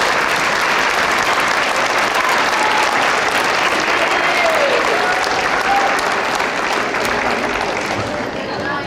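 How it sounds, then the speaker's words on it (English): Loud, full audience applause for students at a school academic awards ceremony, thick continuous clapping that holds steady and tapers slightly at the end. "Let's give these students another round of applause,"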